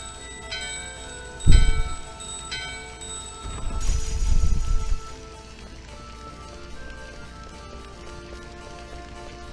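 A bell-like chime from the Gizamaluke bell in the video game Final Fantasy IX rings out once near the start and again a couple of seconds later, then fades into a soft, steady in-game ambience with no talk.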